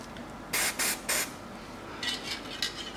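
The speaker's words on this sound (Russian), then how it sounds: "Смазываю резьбу на наконечнике." Lubricant sprayed from an aerosol can onto the ball joint threads of a Toyota Mark II JZX101, three short close bursts of hissing spray followed by several fainter, quicker spurts.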